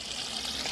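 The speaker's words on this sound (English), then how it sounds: "you turn it to the on position, and you'll see that it's draining water off there" Water drains from the drain tap of an Adria Compact Supreme caravan as a soft, steady trickle heard up close, brief and with no speech.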